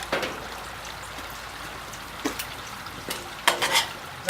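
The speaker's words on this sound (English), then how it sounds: "we're going to add a can of diced tomatoes, a little bit of juice" Diced tomatoes from a can tumble into steaming vegetables and pasta, giving a soft continuous sizzle with several sharp wet plops and stirring bursts near the end, no talking.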